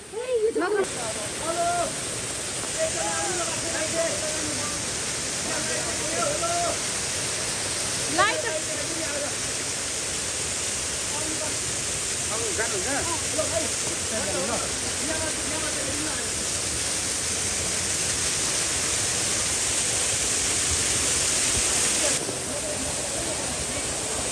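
A river rushes steadily beneath a footbridge, its broadband roar continuous and fairly loud throughout, with people talking over the water.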